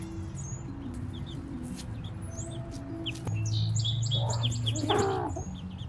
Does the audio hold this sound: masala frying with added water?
no